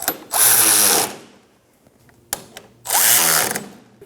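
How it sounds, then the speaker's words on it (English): A power ratchet tightens control arm bolts on an Audi Q5, with two loud whirring bursts separated by a quiet pause and a few small clicks of tools being handled. "Let's go ahead and snug those bolts up."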